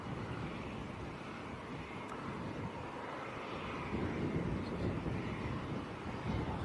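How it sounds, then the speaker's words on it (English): A VistaJet Challenger business jet passes at Manchester Airport, a faint, distant engine rumble mixed with wind noise that swells slightly toward the end. "VistaJet Challenger."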